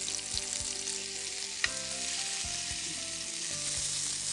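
Chicken rolls frying in a pan, a steady close sizzle broken by a few soft knocks and shifting sounds, with no talk.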